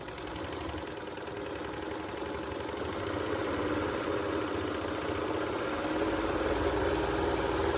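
A Baby Lock Celebrate serger runs steadily, stitching crochet onto fabric with a lengthened stitch, giving a continuous close mechanical whir that holds even throughout with no talk.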